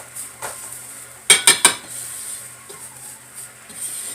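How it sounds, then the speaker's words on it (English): A whisk works paste in a bowl, with three quick metallic clinks against the bowl standing out over a soft stirring hiss and quieter scrapes. "And a whisk is probably the best thing to use for this."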